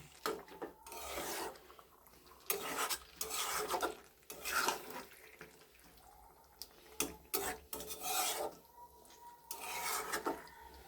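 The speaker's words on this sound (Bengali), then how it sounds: "এভাবে মাংসটা মশলার সাথে ভালোভাবে মিক্সড করে নেবেন" Chicken being stirred and mixed with spices in a pan for a spicy home-style bhuna, repeated rough scraping and rubbing strokes of a spoon against the pan, close, in irregular bursts with short pauses, no talking.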